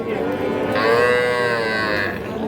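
A calf moos at a livestock market where young Sahiwal and crossbreed bull calves are sold: a single loud, drawn-out bellow lasting over a second, close by, above a low murmur of market noise.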